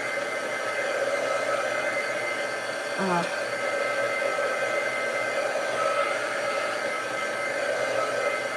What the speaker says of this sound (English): can I use the dryer to dry it up more?